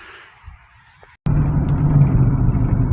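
A Silverado pickup with fresh shocks rolling down a back country road, a loud steady engine and road rumble that kicks in suddenly after a quieter, thinner moment and keeps droning evenly, close by, with no talk.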